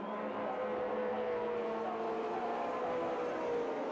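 Touring race cars, including a BMW, lapping the Sandown circuit in 1984, a steady, distant engine drone with sustained tonal whine, faint and continuous throughout.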